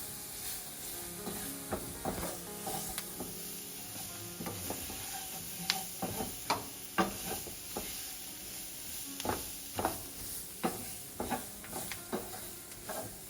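Roux stirred in a cooking pot for shrimp piquante, with a low background sizzle and a repeated series of soft scraping knocks from the spoon, fairly quiet and close, no voices.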